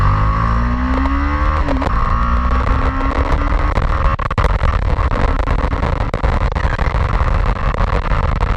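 A heavy BMW motorcycle accelerates hard on a road, its engine roaring loud and close with rising revs and steady wind-blown rumble throughout, no talking.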